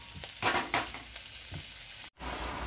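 Octopus and cuttlefish sauté in a hot pan, a soft steady sizzle with a few stirring scrapes, close and quiet, ending with a brief dropout.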